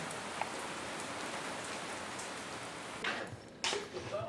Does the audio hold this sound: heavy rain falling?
yes